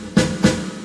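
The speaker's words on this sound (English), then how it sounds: "The snare drum is this one." Two sharp snare drum hits, evenly spaced and close, each a crisp broadband crack with a short ringing tail.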